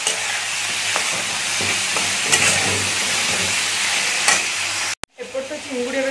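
Chingudi prawns fry fast in a pan with a loud, steady sizzle and occasional stirring scrapes, cutting off abruptly near the end to leave a brief quieter tail.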